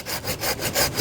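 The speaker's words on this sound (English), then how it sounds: "My pruning saw should just slip into that gap nicely." Close, loud pruning saw cutting through a fig tree branch at its base, with steady back-and-forth strokes roughly every fifth of a second and a raspy wood grind.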